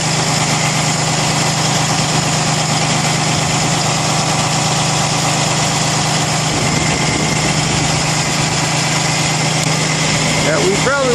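A pressure washer's engine drones at a steady, even pitch close by for the whole stretch during an acid wash to strip road salt, with voices talking over it.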